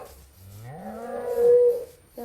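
A cow in the video game Minecraft lets out one long, close, rising and falling moo that fills most of the clip, heard on its own with no talking.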